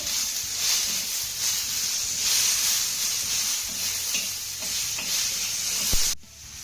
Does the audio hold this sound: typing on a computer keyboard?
no